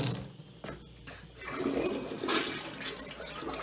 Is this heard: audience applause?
no